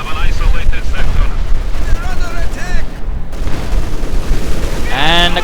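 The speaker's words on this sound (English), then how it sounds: "And a quick barrage against any encroaching pioneers." An artillery barrage in a real-time strategy game: loud, rapid booming explosions and gunfire-like bursts, heavy through the opening, easing briefly, then building again near the end.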